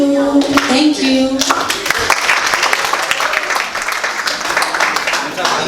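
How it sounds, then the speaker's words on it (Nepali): Guests at a wedding reception break into applause, a dense burst of clapping that swells after a short sung note and continues steadily, with voices mixed in. "हामी ताली बजाउनेछौँ, तपाईँले अझै ताली बजाउन।"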